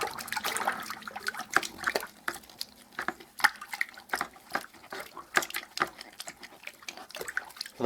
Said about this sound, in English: Put these in the water.